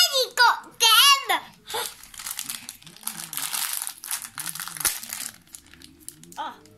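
Wrapping crinkles and rustles as a child opens presents holding Thomas minis toys, bursts of crackling paper alongside a young child's excited babbling and squeals, with adult voices chattering over the later rustling.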